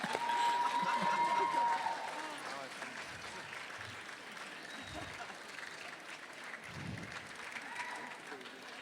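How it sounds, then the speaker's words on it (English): A large audience at a College of Dentistry commencement applauds graduates' families, sustained crowd clapping that is loudest at first and then settles into a steady, slightly softer wash. "please give them a round of applause for everything they've done to get you to this far"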